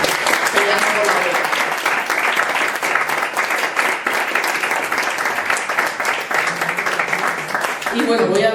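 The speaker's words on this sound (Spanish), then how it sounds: "creo que un aplauso para toda esa gente que está peleando por la" Audience at a talk on the labour movement applauding in support of striking workers, sustained dense clapping throughout at close range, tapering off at the end as a voice begins.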